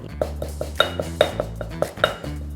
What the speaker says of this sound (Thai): เราตำเครื่องแกงส้มกันก่อนเลยนะคะ